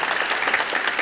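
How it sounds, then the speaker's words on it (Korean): Brief burst of audience applause at a Korean researcher award ceremony, a dense, even patter of many hands clapping at close range throughout. "여러분이 맞다고 생각하시면 큰 박수를 보내주시겠죠."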